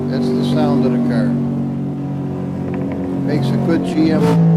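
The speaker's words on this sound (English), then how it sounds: "Makes a good GM V8 sound." A deep GM V8 engine in an Assetto Corsa racing game rumbles and revs, loud and steady, with someone talking over it.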